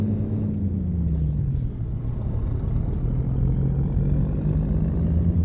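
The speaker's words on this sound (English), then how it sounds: "It's chugging a bit on the startup." Low, steady chugging rumble of a MAN 520HN truck engine idling after startup in American Truck Simulator, with a droning low tone that dips briefly and then holds steady and loud throughout, with no talking.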